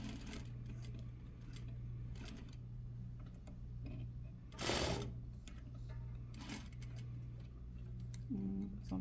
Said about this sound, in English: I am at the sewing machine